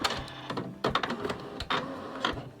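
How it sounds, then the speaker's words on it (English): A home printer feeds and prints a sheet loaded dots-up for a thrift store Easter decor project, giving a mechanical run of whirs, clunks and rolling feed noises with several sharp jolts, close and fairly loud. "I'm loading this in to my printer"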